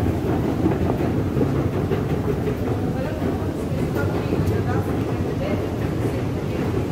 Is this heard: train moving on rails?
yes